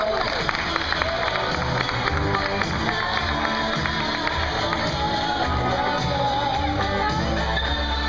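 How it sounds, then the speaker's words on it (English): An audience at a zoo animal show applauds a red kangaroo, with loud continuous clapping and crowd noise filling the space and some voices mixed in. "a big round of applause"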